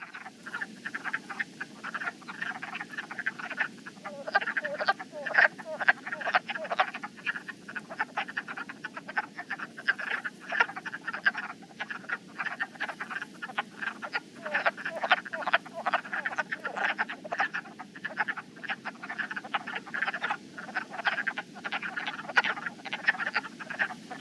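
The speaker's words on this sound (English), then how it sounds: "if you hear something that sounds like a raft of ducks in a wetland in January, February, it's a good chance that it's going to be a wood frog" Wood frogs calling in a winter wetland at night, a dense chorus of short clucking, duck-like quacks repeating steadily and overlapping throughout, fairly close and continuous with no talk.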